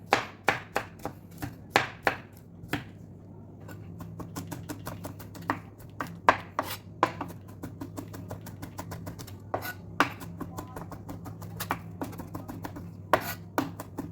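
Garlic being chopped into small pieces with a knife on a cutting board, sharp close knocks in quick uneven bursts with short pauses, alone with no talk, while cooking an Indomie noodle dish.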